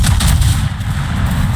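Heavy naval guns of a battleship such as the Georgia fire at a target in a naval warship video game, producing a dense, loud, continuous barrage of deep booming blasts with no talking.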